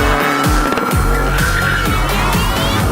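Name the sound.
race car wheel spin while dragged backwards by excavator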